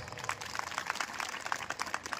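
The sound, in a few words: audience clapping at poetry recital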